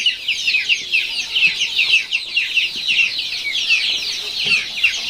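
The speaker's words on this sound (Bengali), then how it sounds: "এ পাশে রয়েছে টাইগার মুরগি এবং দেশি মুরগি" Many Tiger layer and native chicks cluck and chirp at once, a steady overlapping chatter from a flock nearby with no voices.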